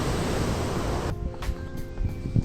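Water roars through three open flood gates at the Harike headworks, a loud dense rush filling the first second before dropping to a quieter, distant wash.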